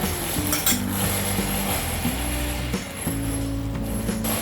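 A sponge dosa (set dosa) sizzles steadily in oil on a hot pan, a loud continuous frying hiss with faint scraping and clinking of a utensil against the pan, with no voices.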